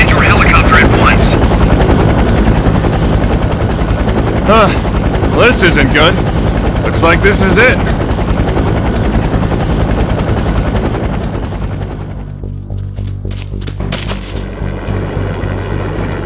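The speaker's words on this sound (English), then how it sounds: "Drop altitude and land your helicopter at once." A loud, steady helicopter rotor drone fills the scene while people talk over it; the engine roar eases slightly toward the end.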